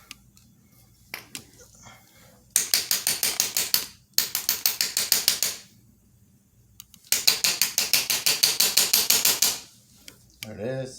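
Ratchet wrench loosening a nut on a lawn mower carburetor, rapid clicking in three bursts separated by pauses, close and loud.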